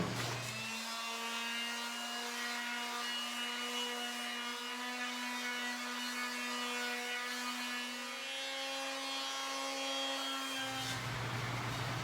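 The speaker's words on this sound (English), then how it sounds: "a fair bit of sanding." A power sander whirs on wood with a steady, even hum for about ten seconds, starting and stopping abruptly, close to the microphone.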